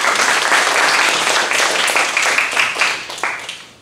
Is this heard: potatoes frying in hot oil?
no